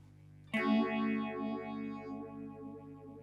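An Electro Harmonix Bad Stone phase shifter pedal at a fast rate sweeps a sustained strummed guitar chord, its rapid whooshing phase swirls pulsing steadily as the note decays, with no talking.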